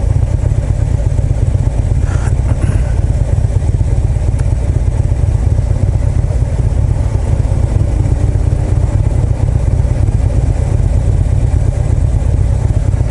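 A motorcycle engine idles on the road during a parade, a loud, steady low rumble that holds throughout with no talking.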